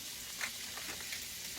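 Tablespoon of butter melting in a hot sauté pan with zucchini, mushrooms and onions, a faint steady sizzle with light crackles over a short stretch, no talk.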